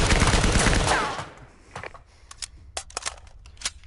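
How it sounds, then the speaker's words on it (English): Gunfire in the VR shooter Firewall during a training session, aimed through windows: a dense, loud burst at first, trailing off into a sparse run of sharp separate shots with quieter gaps between them. "So practice shooting through the windows."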